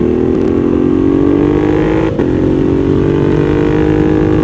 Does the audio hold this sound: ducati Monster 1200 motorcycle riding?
yes